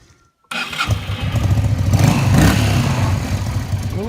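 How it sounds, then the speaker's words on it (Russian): A Voskhod motorcycle engine cuts in abruptly after a brief silence and settles into a loud, close, steady running chatter with slight revving. "Ну вот двигатель работает."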